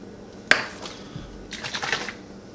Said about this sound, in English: In a sauce pot over medium heat, we're going to empty 12 ounces of fresh cranberries.